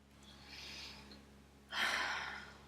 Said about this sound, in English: taking a big breath in and a big breath out when you've done